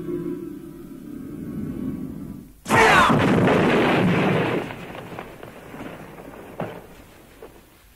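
A magical explosion sound effect from a radio drama: a sudden loud blast bursts in after a low hum, roaring and crackling for a couple of seconds before fading into a rumbling tail with one more thud.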